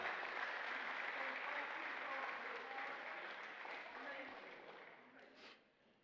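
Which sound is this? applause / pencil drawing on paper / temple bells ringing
applause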